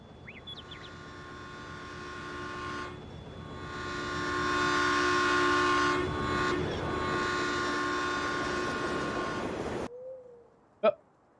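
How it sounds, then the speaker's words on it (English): A train passing through a West Coast USA farm map in Farming Simulator 19 gives a loud, sustained horn blast with rumbling wheels that swells and fades before cutting off abruptly, followed by a brief chirp. "trains come through the map at various schedules going either direction. I will say that this is loud."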